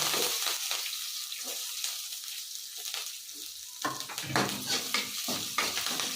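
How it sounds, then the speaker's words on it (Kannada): Curry leaves and chopped onion sizzle steadily in hot oil for a cluster bean (guar) palya, with the scrape and clatter of a spoon stirring the pan breaking through close up. "ಹಾಗೆ ಕರಿಬೇವು ಹಾಕ್ತಾ ಇದ್ದೀನಿ ಇದ್ರ ಜೊತೆ ಈರುಳ್ಳಿನ ಹಾಕ್ತಾ ಇದ್ದೀನಿ"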